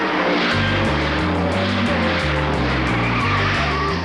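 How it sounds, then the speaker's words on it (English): A Ford Falcon Phase 3 GTHO race car roars flat out at around 140 mph down Conrod Straight at Bathurst, its engine loud and close with a steady, pulsing drone and stepped pitch changes. "Unleashing its newly developed power, Moffat accelerates the GTHO to something around 140 miles per hour down Conrod."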